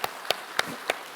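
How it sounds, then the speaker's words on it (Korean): A few sparse, evenly spaced claps sound in a church congregation, about four sharp hits roughly a third of a second apart, fairly faint over a quiet room. "박수 한번 칠까요, 그럼? 한번 칩시다."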